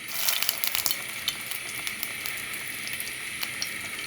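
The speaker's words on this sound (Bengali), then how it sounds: "ডিম দিয়ে ভেজে নেব।" Egg-coated momos frying in hot oil give a steady, close sizzle with a busier crackling burst in the first second, then settle into an even hiss with occasional pops.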